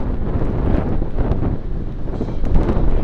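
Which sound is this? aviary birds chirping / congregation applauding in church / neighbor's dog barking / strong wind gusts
strong wind gusts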